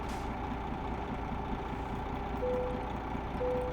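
A quiet DAF XD truck engine in Euro Truck Simulator 2 hums low and steady in the background, with two short tonal beeps near the end.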